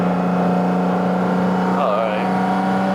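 A Porsche GT4RS with a naturally aspirated flat-six and unplugged exhaust valves drones at steady revs from inside the cabin, a loud sustained tonal hum with a brief rising whine near the middle.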